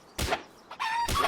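Chickens in the creature-catching game Palworld give short clucks and a brief crowing call, close and clear, in quick succession with no talking.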